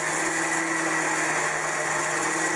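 An electric blender whirs steadily as it blends chimichurri with added oil, a loud, even motor drone with no pauses and no voices.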